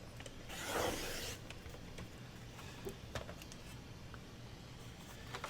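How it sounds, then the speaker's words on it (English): Paper from an old file folder being trimmed: one short, rasping cut near the start, then a long, nearly silent stretch with a few faint handling ticks. "I'm going to trim this top off first and make it even."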